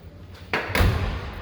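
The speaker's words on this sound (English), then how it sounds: "All right, I'll shut that door." A single solid car door slam on a 1949 Buick Super Sedanette lands close by, a heavy thud followed by a brief fading rattle.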